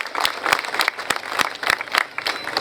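Applause from a crowd at a public gathering, loose and uneven clapping with distinct sharp claps standing out close by, no talking over it.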